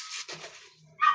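A dog makes short, yelping bark-like sounds nearby, two quick bursts followed by a pause and then a sharper final yip, loud and alone without talk.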